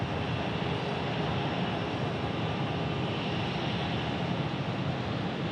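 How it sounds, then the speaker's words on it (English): A China Airlines jet on final approach into Phoenix Sky Harbor gives a faint, steady, distant engine rumble and hiss, with no speech over it. "I can see China Airlines making its right base turn to go final."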